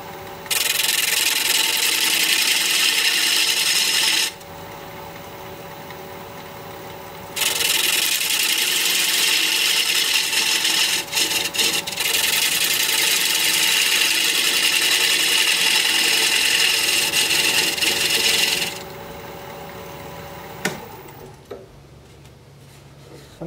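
A thin softwood slab spins on a wood lathe as the tool rasps and scrapes across it, a steady rough rubbing broken by short pauses, close and fairly loud with no speech.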